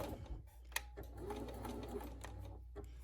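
A sewing machine runs continuously, stitching the final half-inch seam of a French-seamed pillowcase with a fast, even mechanical whir, quiet and close with no talking.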